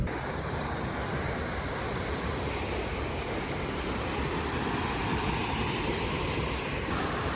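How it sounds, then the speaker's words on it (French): Water laps nearby on an outdoor riverside or lakeside spot, a steady wash of soft splashing and rushing mixed with wind noise on the microphone, continuous and fairly close, with no voices. "je sais pas si vous m'entendez bien avec l'eau à côté"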